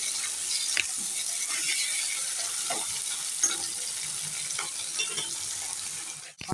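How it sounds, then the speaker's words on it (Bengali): Tomato frying in a pan with potato and salt for a thin catla fish curry with cauliflower, a steady close sizzle broken by scattered scraping and clicking of a utensil, ending in a sharp knock. "টমেটোটা দিয়ে আমি একটু ভেজে নেবো।"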